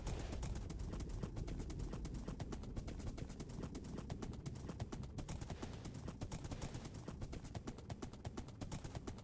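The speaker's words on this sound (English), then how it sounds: "It's so nice having a fast horse." Fast horse galloping in Minecraft, a rapid, steady stream of hoof clops at a quick rhythm, fairly quiet and even throughout with no speech.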